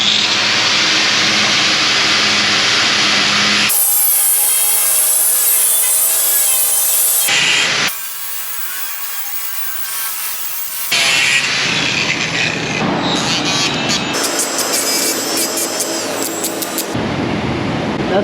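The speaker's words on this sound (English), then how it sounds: "Let me get the cutoff wheel. I'm going to cut this thing to length" A cutoff wheel grinding through a steel bed brace for a 1960–66 Chevy C10 pickup, a loud continuous harsh whine in several long passes broken by brief pauses and changes in pitch.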